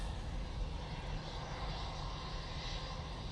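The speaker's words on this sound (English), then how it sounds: "There goes that Ryanair. Off to Bucharest." A Ryanair airliner departs Manchester Airport, heard as a faint, distant engine rumble with broadband wind-like noise over a few seconds.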